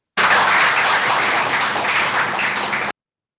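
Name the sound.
applause from church congregation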